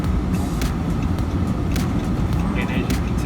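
A truck in automatic four-wheel drive rolls along a snowy road in Jacksonville, Florida, during freezing rain and sleet, giving a steady, loud rumble of engine and road noise with a voice faintly present.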